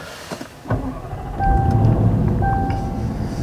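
A 2021 Range Rover SVR engine cranks briefly and starts, settling into a steady idle rumble with a faint electronic chime sounding twice.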